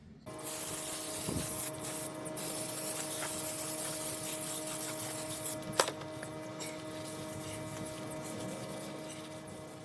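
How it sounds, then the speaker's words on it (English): Brake cleaner hisses from an aerosol can onto a Honda HR-V brake hub, a steady close spray with a few short knocks and clicks, and no talk. "lift it up and spray it sideways so all the debris will fall off"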